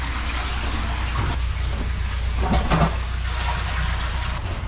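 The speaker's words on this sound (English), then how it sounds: "we want to flush every toilet. We want to get as much water down the line as we can." Toilets flushing in a factory washroom to push water through a blocked sewer line: a steady loud rush of water throughout, swelling briefly near the middle before settling back.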